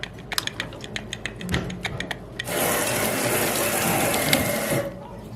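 Rinsing an upside-down floor mat with water: after a run of small clicks and taps, a steady close spray of running water starts and hisses evenly for a few seconds before stopping.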